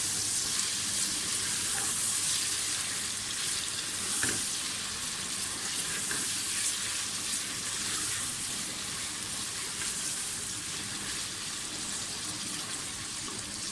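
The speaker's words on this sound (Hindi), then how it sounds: "मटन बहुत तब तक भूने जब तक उनका कलर ना छूट जाए।" Mutton for palak gosht browning in hot oil in a pot, with a steady, dense sizzle and occasional stirring scrapes running close and loud throughout, no voices over it.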